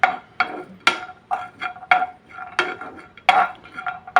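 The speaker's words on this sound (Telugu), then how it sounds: "ఇప్పుడు పిస్తా పప్పు కూడా వేయించుకుందాము." Pistachios roasting in a pan as they are stirred, giving a run of crisp scraping, rattling strokes at a steady rhythm, close and fairly loud with no voices.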